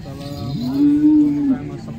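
A cow at a cattle market gives one loud, drawn-out moo that swells in the middle and fades, close by with faint background noise.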